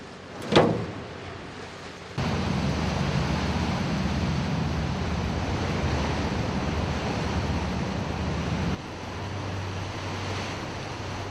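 Steady broadband wash of sea waves around a hospital ship off Korean island villages, a continuous roar with wind noise on the microphone, preceded by a brief bump and a quieter stretch before the surf sound swells in.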